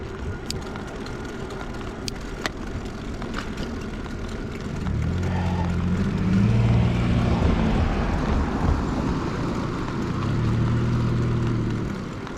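A Vivi electric bike rides over potholed street with its throttle engaged, a low motor hum rising and falling in two swells over steady road and wind rumble, with a few sharp clicks early on.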